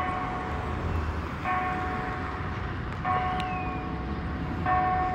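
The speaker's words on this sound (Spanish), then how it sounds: "Ahí están las campanadas de" Church bells ringing in the distance near a bridge by a bus station in Lagos de Moreno, Jalisco, Mexico: a few spaced, sustained tones struck roughly every one and a half seconds over steady outdoor rumble.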